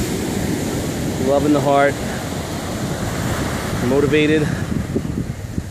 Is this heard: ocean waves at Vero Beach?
yes